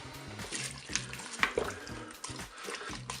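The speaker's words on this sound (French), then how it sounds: "Je vais pouvoir verser mon eau." Water pours into a Cookeo multicooker pot holding a crumbled chicken stock cube, a close, splashy trickling with small irregular bursts and gurgles, moderately quiet, with no talking.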